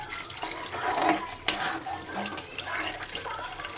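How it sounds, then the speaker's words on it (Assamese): Water poured into a pan of frying palak paneer gravy, a continuous splashing gush with a sharp spattering burst midway, close and moderately loud with no talk. "ইয়াৰ পানী দি দিলোঁ।"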